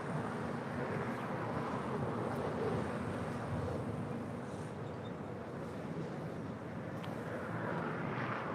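An airliner making a north side departure at LAX, a continuous broad engine roar mixed with wind buffeting on the microphone, steady and sustained throughout.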